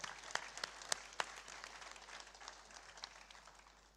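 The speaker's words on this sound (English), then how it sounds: "A big round of applause for Sri Arup Das." An audience at an institute's distinguished alumnus award ceremony and foundation day gives a round of applause, a faint, distant wash of clapping with a few sharper claps standing out early before it slowly fades.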